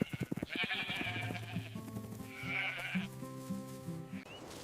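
Sheep let out of their enclosure to graze bleat several times nearby, long wavering calls that overlap one another.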